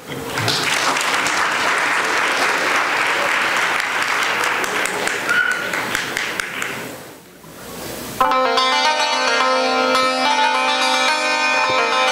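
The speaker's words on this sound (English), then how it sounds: "Let's have a big round of applause for them." Loud, dense applause from an audience at a university International Mother Language Day celebration fills the first eight seconds and fades out, followed by traditional Iranian santur and tombak music beginning.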